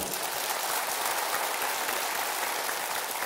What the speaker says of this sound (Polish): I tutaj brawa by się przydały